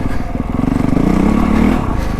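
A 2025 Honda CRF450R Works Edition dirt bike engine revs on a snowy trail, with a loud, close, steady four-stroke drone that rises and swells in pitch midway, then settles, with light mechanical clatter underneath.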